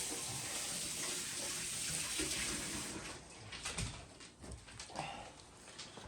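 Running tap water for a quick rinse of a pork money muscle before the rub goes on, a steady broadband wash that thins out and turns choppy partway through, fairly close.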